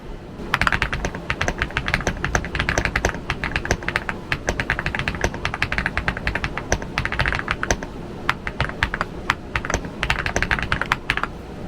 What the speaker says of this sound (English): I just typed, "This is just a test to see how these switches sound.